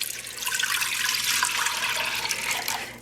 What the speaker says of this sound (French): je vais y ajouter mon mélange de yaourt, eau et farine de pois chiche